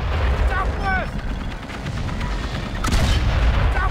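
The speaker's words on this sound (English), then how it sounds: "Looks like I have to constantly be firing." Constant gunfire in Valiant Hearts: The Great War, a loud, steady battlefield barrage of shots and booms mixed with rumbling explosions, with a few whistling projectile sounds layered throughout.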